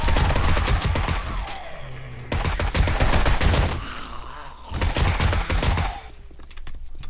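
Heavy gunfire during a zombie attack in 7 Days to Die: rapid, loud volleys of shots pound in three long bursts separated by short quieter gaps, with a dull rumble underneath.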